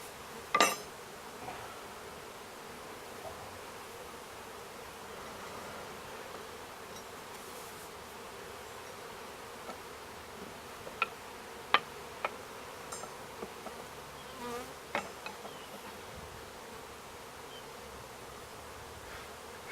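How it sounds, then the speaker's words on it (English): Honeybees being moved into a top bar hive keep up a steady, continuous buzzing close by, broken by a few sharp clicks and taps of hive parts. "I've got the bees."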